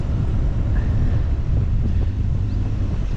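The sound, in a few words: wind blowing on a boat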